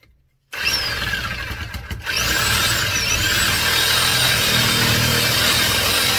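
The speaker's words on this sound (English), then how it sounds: "we're going to use a Sawzall and we just cut right through it" A Sawzall reciprocating saw cutting through a blocked drain pipe at a sewer clean-out, starting abruptly after a short silence, then a loud, sustained buzzing rasp with a brief stutter before it settles into steady cutting.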